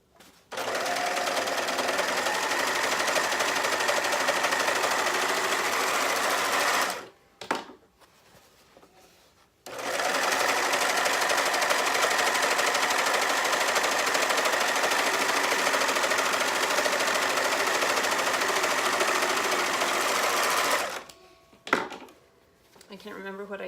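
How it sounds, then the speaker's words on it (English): Rapid, loud buzzing stitching of a serger sewing machine running along the edge of a pillow, two long continuous bursts separated by short pauses with quieter handling. "I can't remember what I did before I had a serger."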